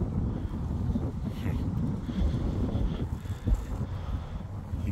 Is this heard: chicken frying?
no